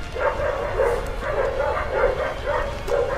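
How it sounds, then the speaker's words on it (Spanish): Dogs bark over and over in a steady, rhythmic string of yaps, somewhat muffled and set back in the room, with no talk over them. "y los perros haciendo desmadre"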